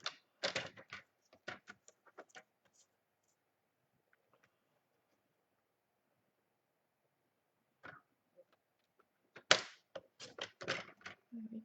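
Cardstock for a mini album is cut with a paper trimmer, heard as bursts of close, sharp clicks and slides at the start, a quiet gap, then another busy run of crisp cutting and handling noises at the end.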